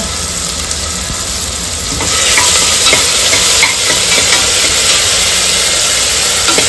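Whole spices and fennel seeds crackle in hot tempering oil as a base for a Maharashtrian-style chicken curry, a loud dense sizzle that swells after a couple of seconds, with occasional stirring scrapes.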